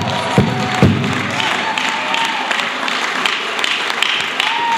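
A church congregation applauds and cheers to welcome an elder preacher, a steady wash of crowd clapping with a couple of sharp thumps near the start and voices mingled in.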